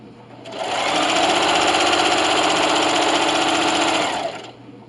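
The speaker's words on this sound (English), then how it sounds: "and backstitch, and just finish off your seam, backstitching at the end." Sewing machine backstitching to finish the seam of a self-binding receiving blanket, a loud, fast, even mechanical whir that runs steadily for about four seconds.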